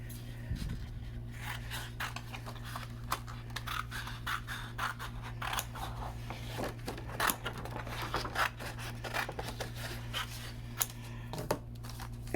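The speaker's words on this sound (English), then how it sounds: "cut some paper here." Scissors cut paper on a cutting pad during card making, producing repeated scratchy snips and scraping sounds over a steady background hum, close and continuous.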